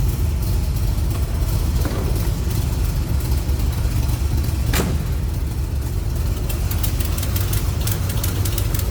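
A 1975 Chevrolet Corvette with a small-block 350 cubic inch V8 idles in a steady, low rumble, close and continuous, with a faint click or tap partway through and no talking.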